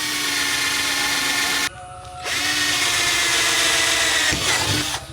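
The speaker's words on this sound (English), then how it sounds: "the drill bit I'm using is about 1 centimeter in diameter" A power drill with a 1 cm bit bores drainage holes in a container for a potato tower, its motor whining loudly and steadily, cutting out briefly near two seconds, then spinning up again and grinding through the material.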